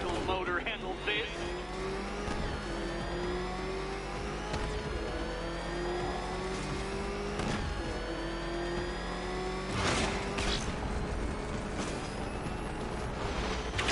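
A racing game's car engine revs and shifts through rising gear pitches, sweeping up repeatedly under an in-game voice speaking over the action.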